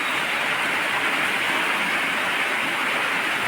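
Constant broadband roar of rushing water from Bambi Falls heard close by, unbroken and even for the whole stretch.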